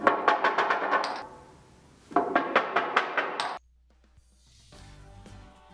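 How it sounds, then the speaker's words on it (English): A wheel rolls down a notched incline ramp, producing two runs of bright, evenly rhythmic clicks, about eight each, close and crisp, separated by a short pause and followed by quieter rumbling. "let's roll a wheel down a notched incline ramp and listen for the clicks"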